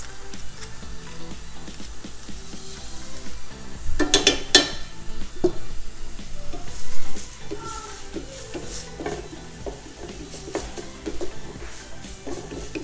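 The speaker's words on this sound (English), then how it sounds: "you are gonna let the onion cook down till it softens a little bit for a few minutes" Onion fries and softens in a hot pan for bean and rice burritos, a moderate, steady sizzle with soft stirring scrapes. A short burst of clattering utensil knocks comes early on, and the frying stays close and continuous without speech.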